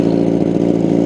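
A 200+ horsepower superbike ridden without rider aids roars loud and close, its engine holding a steady, throaty drone throughout the brief moment.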